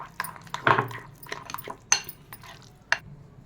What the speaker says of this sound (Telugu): మెత్తగా కలుపుకుందాం అన్నీ కలిసేటట్టు.